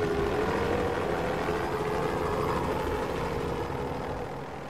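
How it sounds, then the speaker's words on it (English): Steady rotor thump and engine drone of a helicopter, fairly constant and moderately distant, gradually easing off toward the end. "he's spotted by a passing helicopter"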